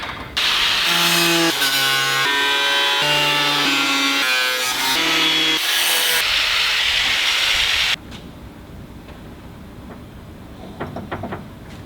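A tool trims a DIY hood scoop for a supercharged rally Miata, making a loud, buzzing cut that shifts pitch in steps for about eight seconds, then gives way to quieter scraping and light taps.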